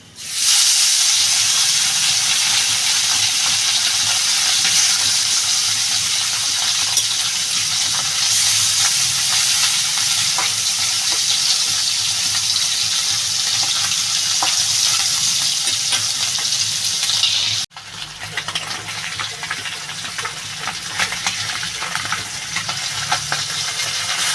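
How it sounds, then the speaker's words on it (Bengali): Small chela fish fry in hot oil with a loud, continuous crackling sizzle that runs unbroken for about seventeen seconds, cuts off briefly, then resumes slightly quieter and more spitting. "এবার এই যে পরের যেগুলো রয়েছে এগুলোও ভেজে নেবো"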